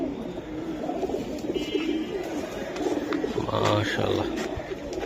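Pigeons coo in a seller's loft among caged birds, including aluminium silver pigeons, a low murmuring chorus running steadily under a voice and other chatter close by.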